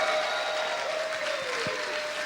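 Loud, steady applause from a church congregation fills the space, with a few shouts and a held tone ringing over the clapping.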